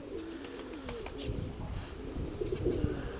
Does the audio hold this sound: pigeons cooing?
yes